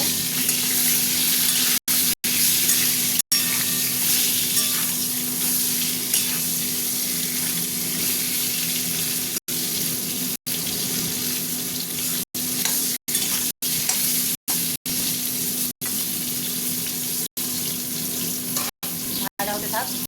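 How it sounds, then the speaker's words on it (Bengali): Whole pointed gourds sizzle and spit steadily in hot oil in a pan, a continuous close frying crackle with occasional stirring and brief dropouts, no talk. "এবার আমি ভাজবো, পটলটা ভাজবো।"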